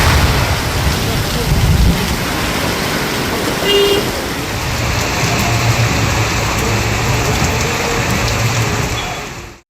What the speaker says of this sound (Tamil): பாலக்கோடு, காரிமங்கலம் உள்ளிட்ட பல பகுதிகளில் மழை பெய்தது.